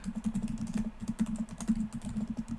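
Steady typing on a computer keyboard, a rapid run of close, soft key clicks continuing without pause and with no voices.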